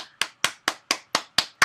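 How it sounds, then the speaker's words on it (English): Single pair of hands clapping in a steady, evenly spaced rhythm of about seven sharp claps, close and dry, during an online women's gathering. "please give her a round of applause"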